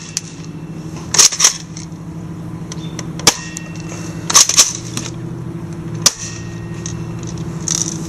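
An AGM full metal 614 airsoft gun fires BBs outdoors at a target, several sharp isolated cracks spaced a second or more apart over a faint steady background hum.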